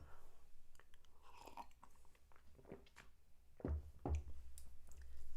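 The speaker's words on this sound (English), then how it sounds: "There's me gulping down the water like the horse that I am." Close, quiet gulps of water from a person, a series of wet swallowing and mouth sounds with louder gulps near the end, with no talking.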